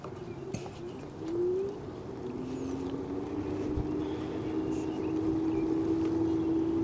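An Evercross H7 electric scooter ridden in gear 1 gives a steady motor whine that climbs smoothly in pitch as it accelerates, then holds near a constant tone over faint outdoor background noise.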